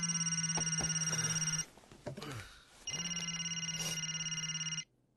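A telephone rings in a film scene: two long stretches of steady electronic ringing, loud and close, separated by a short pause with faint background movement, before the ring cuts off.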